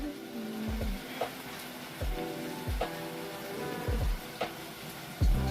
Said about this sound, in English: And you stir again.